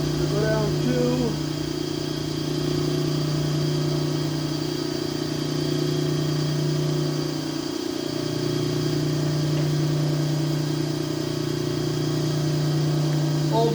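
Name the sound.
old machine cutting aftermarket LS cylinder head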